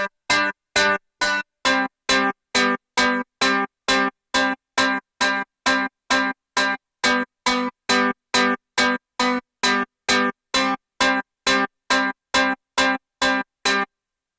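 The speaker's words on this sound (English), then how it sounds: "snappy, and slightly saturated electric guitar sample played across 2 notes" A snappy, slightly saturated muted electric guitar preset plays a steady, evenly spaced riff alternating between two notes, each short plucked hit clean and alone with silence between.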